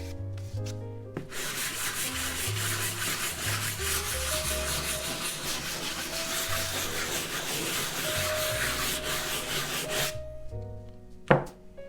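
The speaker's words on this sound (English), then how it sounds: "the last step is with the finest sandpaper" Fine sandpaper on a block rubbed over an old canvas in steady, continuous strokes, a close, even scratchy rasp lasting about ten seconds before stopping, with a faint knock at the end.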